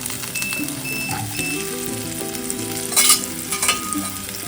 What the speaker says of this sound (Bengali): তেল গরম হয়ে গেছে এবার এই ভেন্ডিগুলো সব দেবো না অল্প অল্প করে দেবো